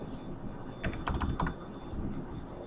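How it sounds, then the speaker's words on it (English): Computer keyboard keys tapped in a short burst of a few quick strokes, close and fairly quiet over a faint room hum, while a number is entered into an Excel 2010 spreadsheet. "So let me type in a number here."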